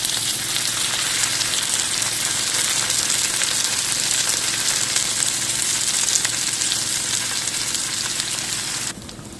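Dosa batter sizzling in coconut oil on a hot pan, a loud, steady hissing crackle that runs continuously close up with no talking.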